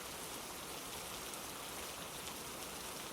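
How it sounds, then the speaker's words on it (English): Steady, dense rain pours down continuously, close and even, forming a constant wash of patter with no voices or other sounds. "the rain isn't letting up"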